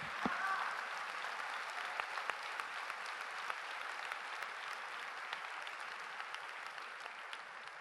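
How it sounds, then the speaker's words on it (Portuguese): Sustained applause from a church congregation at a Brazilian gospel event, steady and moderately distant, filling the space evenly with no speech over it. "E eu queria que você aplaudisse Deus."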